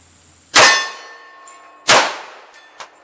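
Pistol rounds strike a steel shooting target: two loud, ringing metallic clangs about a second and a half apart, each decaying with a bright tone, then a faint third ping, close with no talk.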